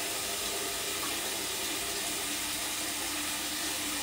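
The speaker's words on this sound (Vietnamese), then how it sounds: "bây giờ cho chút nước nóng là nó ấm ấm vô, rồi đang rửa cho cái tôm nó cập mà nó hết lạnh luôn" Hot water pours steadily from a kitchen tap while raw shrimp are rinsed in it, a loud, close, continuous splashing hiss with no talk.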